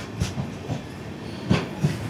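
The 16337 Okha–Ernakulam Express runs along the Konkan Railway, a steady rumble inside the coach with a few soft rhythmic wheel clacks on the rails.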